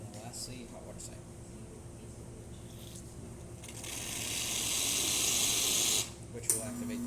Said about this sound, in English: And lastly, hot water side.